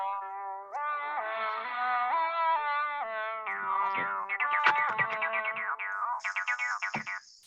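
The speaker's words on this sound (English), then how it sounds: "So that's basically the sounds of a synthesizer." Synthesizer tones in the style of a Juno and TB bass unit, with a sustained harmonic melody that shifts pitch in steps, then quicker plucked, bouncing notes and a bright high squeal near the end, alone and fairly loud.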